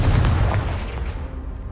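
A loud booming blast from the Confringo fire spell in Hogwarts Legacy, hitting a pile of debris that blocks a stairwell, with a heavy low rumble that decays steadily into a fading crumbling tail.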